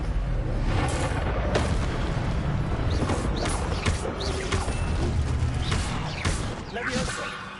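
A fire spell cast again and again in Hogwarts Legacy, heard as a dense roaring, crackling rush of bursts that runs without a break, with voices talking underneath.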